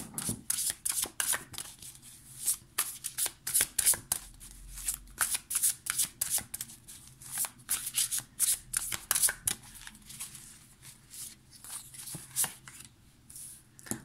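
A Beautiful Creature tarot deck is shuffled in a steady run of crisp, papery riffles and flicks, close and fairly loud, with short pauses between bursts and no voices.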